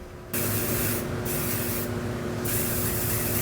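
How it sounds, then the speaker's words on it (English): Hairspray hisses from an aerosol can onto a gold-painted PLA Holy Grail prop in three close, steady bursts with only brief dips between them. "So I'm gonna put the hairspray on now."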